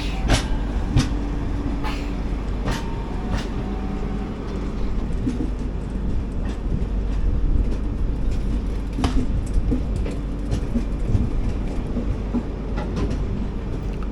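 A train rolls into platform 1 at Guntakal Junction, a steady low rumble of wheels and carriages with scattered clanks and knocks, while birds chirp faintly in the background throughout.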